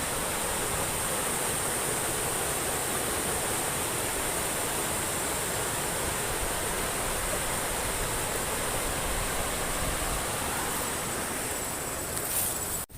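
A river flowing behind a rice field gives a steady, broadband rushing wash that holds evenly throughout, with no voices and no clear breaks.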